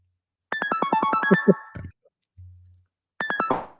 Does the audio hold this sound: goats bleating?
no